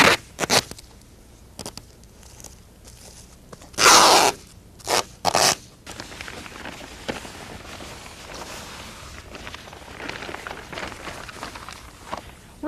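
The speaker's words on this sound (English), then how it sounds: "use some duct tape over the seams just to make sure they don't come apart" Duct tape pulled from the roll and pressed over the seams of a styrofoam pool bottom during a round aboveground pool install; a few loud, close ripping bursts, then softer scraping and handling noise.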